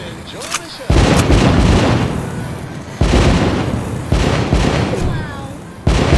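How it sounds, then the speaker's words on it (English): Fireworks in a VR game go off in a run of loud, booming bursts, one big blast after another with crackling tails, mixed with soft voices and game sounds between them. "Light up those fireworks."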